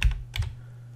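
Typing on a computer keyboard, two quick clusters of close key clicks with a low hum continuing underneath.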